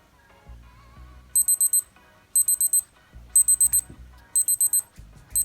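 A Casio G-Shock GA-700 countdown timer alarm beeps in repeated bursts of four quick, high-pitched tones, separated by short pauses, over faint background music.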